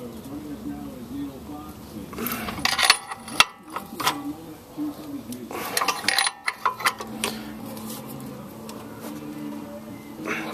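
A wrench loosens a self-locking bolt on a Ford Explorer radius arm, giving clusters of metallic clicks and ratcheting ticks close by, broken by short pauses, with faint background noise.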